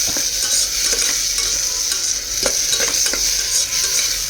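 Tomato puree frying in oil for rajma curry, a loud continuous sizzle close by with spoon scrapes and stirring bursts at intervals, no voices.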